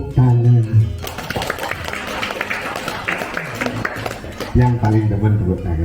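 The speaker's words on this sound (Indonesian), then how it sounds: "Tepuk tangan." Audience applause breaks out during a Hindu dharma talk at a Siwaratri gathering, a dense wash of clapping that swells for several seconds between stretches of someone speaking.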